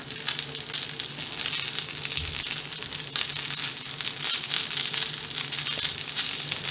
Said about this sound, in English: This, my friend, is sounding and looking very promising for a Korean pancake.